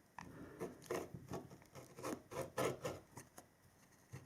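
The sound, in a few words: scissors trimming fabric seam allowance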